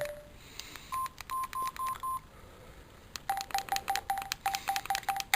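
Button presses on a Samsung SGH-D900i mobile phone keypad, each producing a short beep tone: a run of about five evenly spaced tones, a pause, then a faster series of about ten higher beeps, close and clear over faint background noise.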